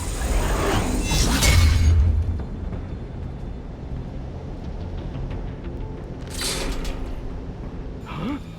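In a Batman video game, glass shatters in a loud crashing burst near the start, then a second bright crash follows a few seconds later over a low rumbling game background.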